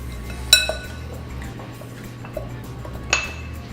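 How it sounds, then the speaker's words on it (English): Keto pie crust mix is stirred in a bowl, with a utensil clinking sharply against the bowl a few times at uneven intervals over a quiet background. "Just mixing it in until it's all incorporated."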